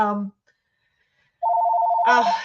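A brief tone starts, then silence, then a steady electronic telephone ring chirps loudly, joined by a short voice-like burst at the end.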